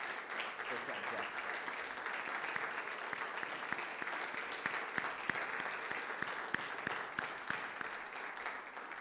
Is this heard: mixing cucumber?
no